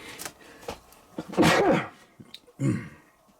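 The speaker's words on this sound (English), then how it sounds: "I got a sneeze coming on" A single loud sneeze bursts out close to the mic after a few sniffs and breaths, followed by a shorter exhaled grunt.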